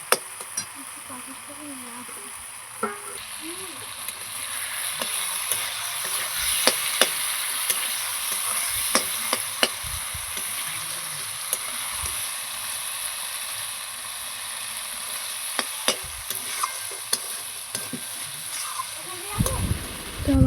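Masala spices are stirred and fried in a pan for a chicken curry. A steady sizzle runs under repeated sharp clinks and scrapes of a spoon against the pan, and a voice talks briefly.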